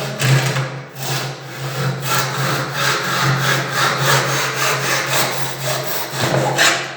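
A ceiling baguette molding cut with a hand saw, a steady rhythmic run of rasping back-and-forth strokes, close and loud, with no talking.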